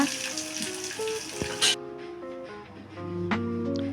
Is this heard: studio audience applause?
no